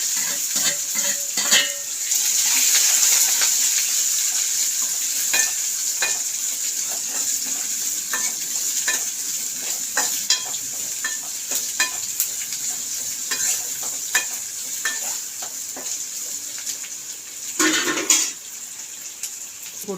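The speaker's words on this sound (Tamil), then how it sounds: "வரமிளகா, சின்ன வெங்காயம் நறுக்கி வச்சிருக்கு," Dried red chillies and shallots fry in hot oil while being stirred. A steady, loud sizzle runs throughout, broken by scraping strokes of the stirring, with a brief louder flare near the end and no talking.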